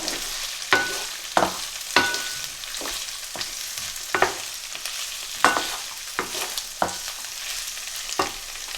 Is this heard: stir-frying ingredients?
yes